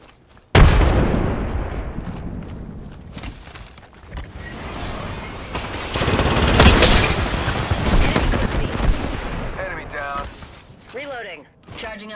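A frag grenade goes off in Apex Legends with a loud, sudden blast, followed by rumbling, bursts of gunfire and booming combat noise, and a voice talks over the mix.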